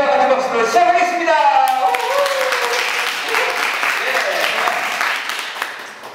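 Applause from the audience opens the final of the 26th academic culture festival debate, a broad crowd clapping that builds after a held voice or tone at the start, then runs steadily and fades slightly toward the end.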